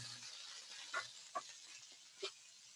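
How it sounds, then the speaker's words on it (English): A rib steak sizzles in a pan with a soft, steady frying hiss, broken by a few faint pops and spatters, heard from a close but quiet position without any talking. "with the size of the steak and with the size of the pan, I know we got a nice strong sizzle"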